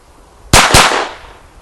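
Two sharp, loud gunshots in quick succession from a Smith and Wesson M&P 22 pistol fired outdoors, each a close crack followed by a brief decaying echo.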